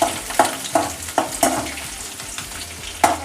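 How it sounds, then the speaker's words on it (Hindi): Curry leaves and chillies frying in a pan, a steady sizzle broken by sharp crackling pops every half second or so, close and fairly quiet with no voices. "और इनको 2 मिनट के लिए हमें फ्राई करना है"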